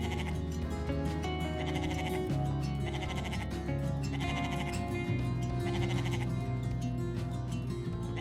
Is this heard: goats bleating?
yes